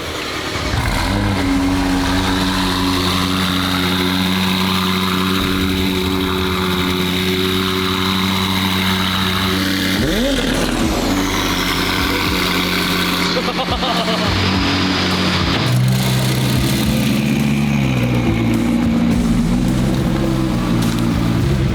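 A loud race car engine turns over and fires, then settles into a rough, throbbing idle with a brief rev midway, close and continuous.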